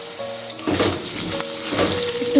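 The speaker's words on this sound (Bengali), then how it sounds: "আলুটা ভেজে নিচ্ছি।" Potatoes fry in a pan for a cabbage curry, giving a close, steady watery sizzle with a few bubbling bursts, over a faint hum.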